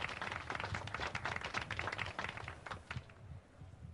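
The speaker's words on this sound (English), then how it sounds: "A lazy applause fills the room." Lazy applause in the video game Disco Elysium: a steady patter of scattered hand claps runs through, fairly near and unhurried, thinning toward the end.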